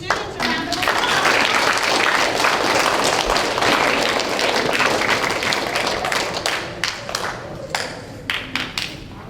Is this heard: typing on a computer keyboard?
no